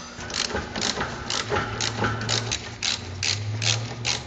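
A ratchet runs big bolts into an assembly with loud, rapid metallic clicking. The clicking comes in repeated bursts over a steady mechanical whir, close by and without speech.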